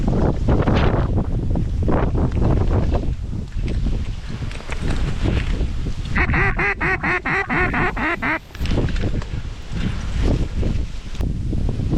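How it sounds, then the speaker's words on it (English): Strong wind buffets the microphone in a marsh during a wind storm, a loud continuous roar with gusts, while mallard ducks quack in a rapid burst partway through. "I didn't know it was gonna be this windy"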